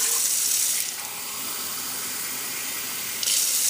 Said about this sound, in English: we're going to fill our saucepan up with 3 mugs of hot water